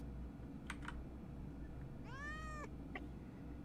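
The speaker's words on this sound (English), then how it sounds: "You got the cat sound." A cat meow from the Minecraft video game, a short rising mewing cry heard alone after a couple of soft clicks, with faint keyboard-like tapping and low background hum.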